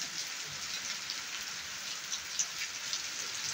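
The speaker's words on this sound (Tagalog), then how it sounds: "lakas ng ulan" Heavy rain in Pakistan pours in a dense, steady hiss, with scattered drops tapping close by.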